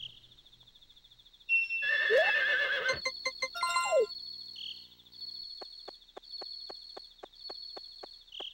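A horse in the Harvest Moon 64 video game gives a bright synthesized whinny over a steady chirping cricket loop, followed by short clip-clop taps as the insect chirps continue alone.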